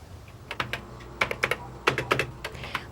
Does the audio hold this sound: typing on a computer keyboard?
yes